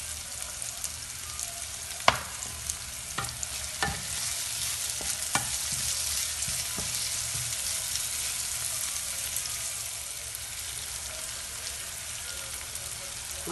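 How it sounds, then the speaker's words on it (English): Onion, carrot and celery stick stir-fried in a pan: a constant soft sizzle with several sharp clacks of a utensil scraping and tapping early on, then steady frying alone. "Stir fry po natin, ganun din po ang celery stick."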